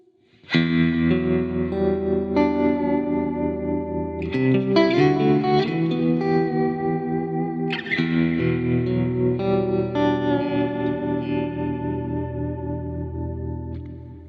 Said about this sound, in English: on the control button you can bring in a tremolo.